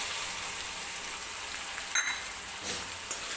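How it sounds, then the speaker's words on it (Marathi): Ginger garlic paste frying in hot oil in a pan, a soft steady sizzle with a few brief clinks and stirring noises partway through. "तर आलं लसणाची पेस्ट सुद्धा आपल्याला छान अशी भाजून घ्यायची आहे तेलामध्ये"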